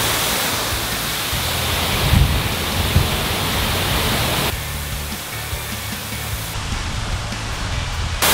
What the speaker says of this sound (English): We are at the base of the waterfall, and right in front of the waterfall is a magnificent view.